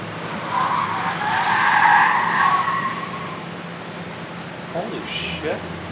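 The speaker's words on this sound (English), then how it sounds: "a Honda Civic take our corner over here and slide and almost take out the mailbox" A Honda Civic slides around a street corner nearby with a loud, drawn-out tire squeal that rises and then fades over a few seconds, and a short, fainter screech comes after it.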